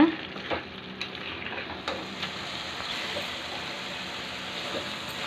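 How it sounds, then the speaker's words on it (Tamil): Carrot halwa with sugar being stirred in a pan, a soft continuous sizzle with faint scraping of the spoon, steady and close, with no talking. "ஸோ நீங்கள் இதையும் கிளறி விட்டுக்கிட்டே இருங்க"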